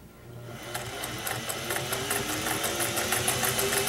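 A vintage Singer 401A Slant-O-Matic sewing machine runs a zigzag stitch, a close steady mechanical whir with rapid rhythmic needle clatter building after a brief start.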